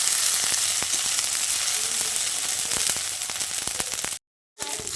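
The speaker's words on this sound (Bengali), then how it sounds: "এবার আদা ও রসুনের পেস্টটা দিয়ে পেঁয়াজের সঙ্গে একটু ভাজা ভাজা করে নিচ্ছি।" Ginger garlic paste fries with onions in a pan, giving a dense, continuous sizzle with scattered crackles and stirring clicks, broken briefly by a short silent gap near the end.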